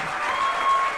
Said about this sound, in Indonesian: Sekali lagi dong tepuk tangannya untuk seluruh reader hari ini.